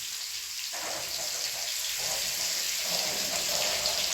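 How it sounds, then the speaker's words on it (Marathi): Rohu fish coated in semolina and gram flour frying in hot oil, a dense continuous hiss and crackle that swells slightly and stays close and steady throughout, no talking. "आपला रोहू मासा फ्राय होतोय"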